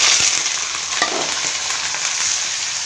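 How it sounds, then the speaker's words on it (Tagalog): Garlic sautéing in hot oil for chicken liver and gizzard adobo, a steady loud close sizzle with faint stirring clicks and no talking. "Gisa na natin ang bawang sa ating adobong atay at balunan."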